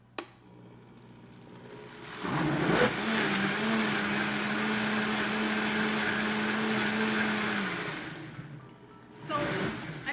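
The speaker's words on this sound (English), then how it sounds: "all we do is blend it and show you what's gonna happen" A high-powered Vitamix blender whirs through pie ingredients, starting abruptly with a loud, steady motor drone that holds for about six seconds before winding down, followed by a brief clatter.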